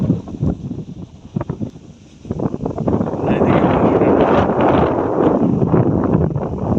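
Wind gusts across open village farmland, a low rumbling buffet against the microphone that builds and holds strong in the second half, with someone talking over the first part.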